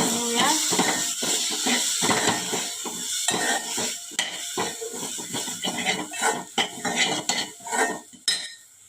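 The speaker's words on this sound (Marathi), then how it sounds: "परतवून घेऊया." Chopped tomatoes stirred in a metal cooking pan for a mixed vegetable dish, with a spoon repeatedly scraping and clanking against the pan over a steady sizzle, close and loud.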